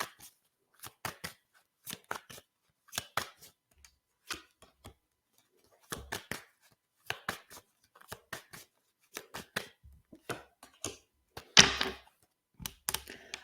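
Tarot cards being shuffled in short riffling bursts, a dozen or so quick snaps and flutters separated by brief pauses, close and fairly soft with no voices over them.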